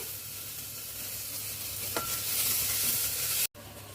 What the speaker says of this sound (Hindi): अब इन सब चीजों को अच्छी तरह से मिक्स करते हुए भूनेंगे।